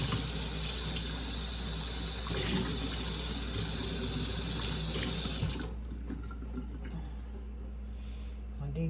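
Tap water runs steadily into a kitchen sink while peppers are cleaned and seeded, a broad rushing hiss that suddenly drops to a quieter trickle near the end.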